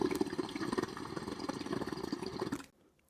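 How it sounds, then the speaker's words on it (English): Large bubbles rising from a solid plate POD diffuser in shallow water, a continuous, louder gurgling churn of popping bubbles that cuts off abruptly near the end. "This is the solid plate. It produces large bubbles, and they pop louder."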